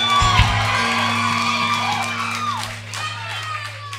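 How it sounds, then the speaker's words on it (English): An audience at a local live music show cheers and whoops with some clapping, a steady crowd roar with sustained tones underneath that slowly fades. "I want you guys to give yourself a round of applause,"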